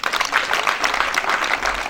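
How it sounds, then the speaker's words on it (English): An audience at a school gathering claps for a visiting education official, a brief burst of close, lively clapping. "May you clap for the PS."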